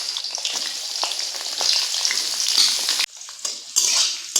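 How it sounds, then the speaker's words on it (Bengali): Sliced pointed gourd and potato frying in hot mustard oil, a loud continuous crackling sizzle with a spatula stirring and scraping the pan, briefly dipping and then flaring up again. "এখন আলু আর পটলটাকে ভেজে নেব।"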